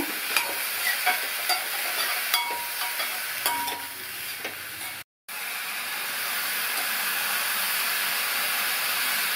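Shredded cabbage seasoned with salt and turmeric is stirred in a pan, making repeated scraping clicks of the spoon over a soft sizzle. After a short break, a steady, close frying hiss continues on its own.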